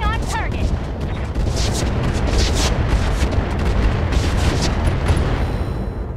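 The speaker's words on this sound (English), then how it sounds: "Firing on target." Mech weapons from Battletech (Roguetech mod) fire at a target: a rapid series of booming blasts and pops, loud and dense, followed by a rolling rumble of impacts.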